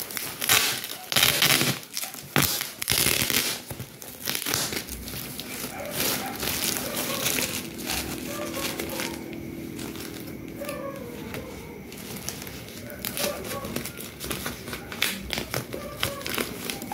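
Thick plastic car cover being unwrapped, with crinkling and rustling bursts that are loudest early on and continue more softly throughout, over faint room noise.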